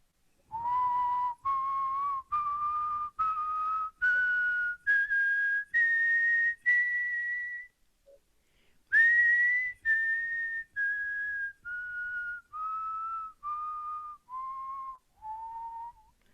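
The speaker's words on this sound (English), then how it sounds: "Now, when I whistle the slow sa" A person whistles a series of clear sustained notes, stepping upward in pitch, pausing briefly, then stepping back down, each note distinct and close.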